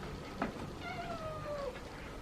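A cat lets out one drawn-out, falling meow over a steady low background hum, with a tiny chirp just before it; faint and close, no talking.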